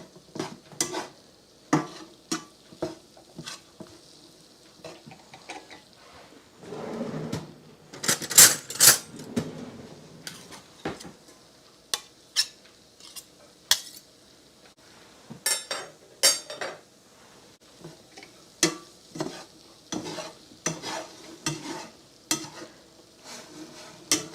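Flour being stirred into sausage gravy in a pan, repeated close scrapes and clinks of the utensil against the pan bottom over a faint simmer, uneven rhythm with a louder burst of stirring midway and no talk.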